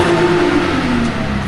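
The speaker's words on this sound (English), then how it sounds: "she's revving it" A BMW E36 car engine, newly swapped to an M54, revs and holds at a steady, loud drone close by, with no voices over it.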